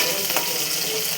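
Chopped onion and green chilli frying in a pan until golden, a steady close hiss of sizzling oil with a faint stir partway through, no voices.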